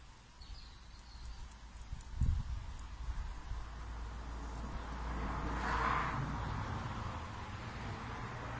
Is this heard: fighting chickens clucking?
no